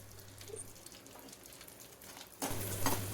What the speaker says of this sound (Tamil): அப்படியே கூட கொஞ்சம் அப்பளமும் வறுத்துக்கலாம்.